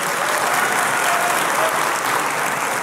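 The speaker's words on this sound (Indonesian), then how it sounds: "Tepuk tangan buat tim multimedia." Church congregation clapping for the multimedia team during a worship service, a loud dense burst of applause from a full crowd, sustained evenly across the moment with no voices standing out.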